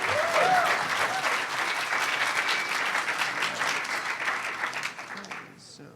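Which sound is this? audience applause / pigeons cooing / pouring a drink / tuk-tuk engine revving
audience applause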